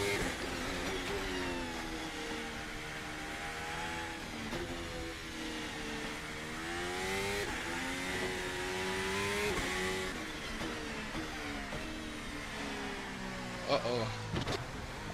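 A Formula Alpha race car in a racing video game, its engine droning and revving with rising and falling pitch sweeps, steady and fairly loud, with a short sharper burst near the end.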